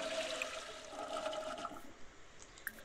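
A toilet flushing in a life simulation game, a close rushing swirl of water that fades out after about a second and a half into quiet drips and small clicks.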